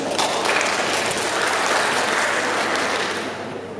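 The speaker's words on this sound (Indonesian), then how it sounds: "Tepuk tangan." Audience at a teachers' workshop event in Kota Batu breaks into steady, dense applause that fills the room and tapers slightly at the end.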